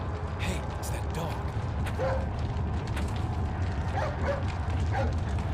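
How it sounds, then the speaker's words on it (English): A dog yips and whimpers in the video game Haunting Ground, short cries over a constant creaking, mechanical game backdrop. "Hey, it's that dog."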